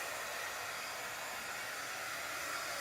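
A hair dryer blows steadily to dry fresh paint on a table, a constant loud airy whoosh with no break.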